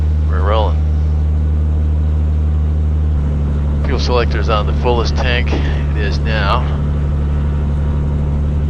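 Steady low drone of a Cirrus SR22T G6 piston aircraft engine at taxi power, a constant hum running throughout beneath cockpit talk from pilots.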